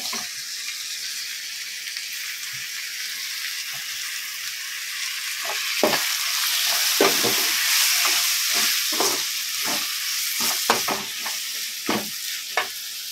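Tomatoes sauté with onion and crushed garlic in a pan for Pulicat-style prawn thokku: a steady, close frying hiss that swells midway, with a series of sharp stirring scrapes and clacks toward the end and no talking.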